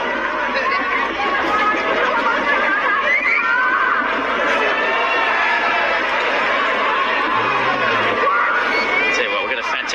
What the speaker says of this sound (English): we've got a fantastic crowd in here today